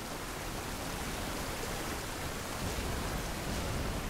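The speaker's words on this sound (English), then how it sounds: "That is a loud waterfall." A loud waterfall in Mass Effect 2 roars as a continuous broadband rush, steady and dense for the whole stretch, with no other sounds standing out.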